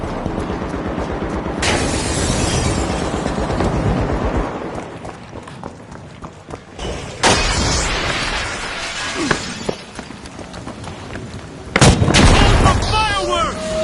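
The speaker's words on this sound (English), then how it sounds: "Fireworks!" Fireworks in the game The Finals burst as sharp crackling blasts, several loud pops and shattering bangs separated by quieter stretches, with a voice talking over parts of it.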